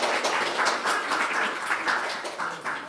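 A small audience at a book concert in a community setting claps warmly, steady overlapping applause of moderate loudness lasting throughout.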